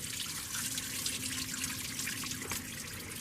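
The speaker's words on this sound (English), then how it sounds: "And it started pushing all this coolant out." Coolant pushing out of a 1967 Plymouth Barracuda engine while it is filled with water, a steady liquid trickle and splatter with faint drips, close and continuous.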